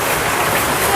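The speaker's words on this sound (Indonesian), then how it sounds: "Ini tuh hujan ya, hujan itu merepotkan." Steady rain falls at an outdoor market, a dense, even hiss with no breaks that fills the whole moment.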